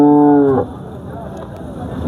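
A dairy cow at a village cattle market lets out a single loud, close moo in the first half-second, followed by low market background noise.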